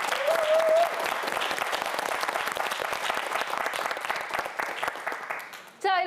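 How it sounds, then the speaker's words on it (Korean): Studio audience on a television quiz show gives sustained, even applause for a student contestant, holding steady for several seconds before cutting off near the end. "허담 학생에게 큰 박수 부탁드립니다"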